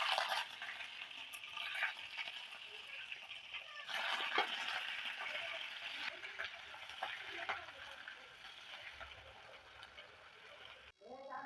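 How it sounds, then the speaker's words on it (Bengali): Paneer cubes fry lightly in mustard oil in a wok, a steady broad sizzle with occasional stirring clatter running throughout, fairly close and even, easing slightly near the end. "পনিরগুলো হালকা করে ভেজে নেব।"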